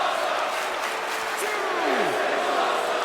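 A sold-out wrestling arena crowd in Atlanta roars and chants steadily throughout, a broad wash of massed voices with a commentator talking over it.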